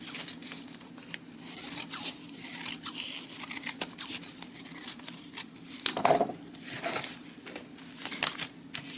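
Scissors trim fabric seam allowances on a quilt block, a series of close, crisp snips and rustles of cloth in an irregular rhythm, one louder clatter midway, no speech.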